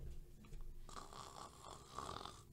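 A person on a plane mimics snoring with a voice, a raspy rattling inhale followed by a drawn-out noisy breath, close and quiet.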